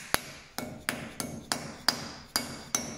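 Metal dust cap being hammered onto the wheel hub of a GMC Sierra or Chevy Silverado: seven sharp, evenly spaced hammer strikes at close range, each ringing briefly with no talk over them.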